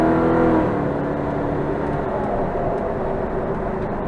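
A Jeep Wrangler JK with a swapped 5.3 V8 and 8-speed transmission drives under light throttle, giving a steady, loud, low engine drone with road and wind noise that holds evenly throughout.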